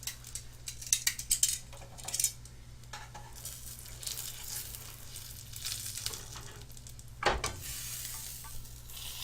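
A Philly cheesesteak grilled cheese sandwich sizzles steadily in a hot pan, a soft continuous frying hiss with occasional clinks of a utensil against the pan, close by and with no talking.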